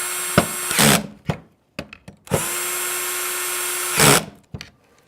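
Power drill driving screws into a motor housing during a motor rebuild, several short whirring bursts and longer sustained runs close by, with brief pauses and clicks between them.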